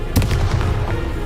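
Bombarda and Confringo spell blasts in the Hogwarts Legacy video game, a booming explosive burst with a rumbling tail, loud and close, with no talking over it.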